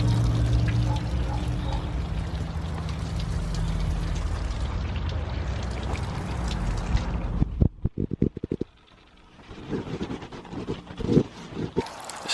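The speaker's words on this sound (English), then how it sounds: "Still this area, it's just dumping too much water." A modified garden sprinkler dumps heavy water onto a garden, a loud steady rushing pour that cuts off abruptly, followed by quieter patter and dripping.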